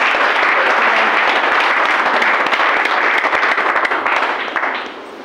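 Audience applause fills a seminar hall, dense, steady clapping from many hands that holds strong for about four and a half seconds before thinning out and fading at the end.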